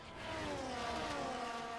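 Race cars in an F1 esports game at the China Grand Prix roll around the final turn toward the grid, a faint, steady engine drone with a slight rising whine over a brief stretch.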